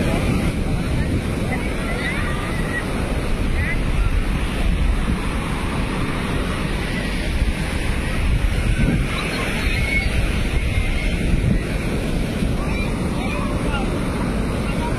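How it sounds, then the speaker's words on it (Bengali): Sea waves break steadily on the beach at Puri, a continuous roaring surf with wind buffeting the microphone throughout. "সেই ঢেউ, সেই ঢেউ, সেই মজা।"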